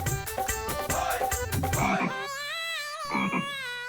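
Someone imitates a frog croaking during an indoor comedy-serial scene, with the calls coming as loud, close, repeated croaks. The first half is rapid and rhythmic, and the second half shifts to a drawn-out, warbling call.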